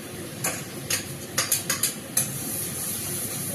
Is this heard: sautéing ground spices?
yes